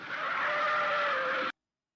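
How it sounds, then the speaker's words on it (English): An old car's tires skid in one steady, loud screech lasting about a second and a half, then stop abruptly into silence. "Old auto tire skid."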